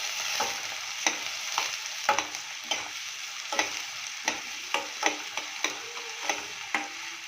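Onions sizzling in a pan with green chillies and curry leaves, a soft continuous fry broken by regular clacks of a spoon stirring against the pan, no voices.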